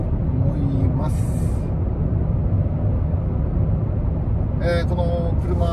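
A Daihatsu Taft car drives along the road near the Tsunoshima bridge at dusk, a steady broad road and engine rumble throughout, with brief higher noises at the start and near the end.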